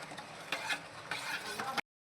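A thick lentil payasam with jaggery is stirred and reduced in a pan, producing close, thick scraping and bubbling for under two seconds before the sound cuts off.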